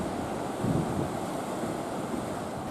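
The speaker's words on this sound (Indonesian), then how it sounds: "Adanya ombak setinggi 2 meter dengan tiupan angin kencang membuat kondisi perairan Laut Merauke sangat tidak memungkinkan untuk melaut." Waves about two meters high churn along the Merauke coast of Papua, driven by strong wind. The steady roaring surf mixes with wind buffeting the microphone and has a few heavier swells, with no voices.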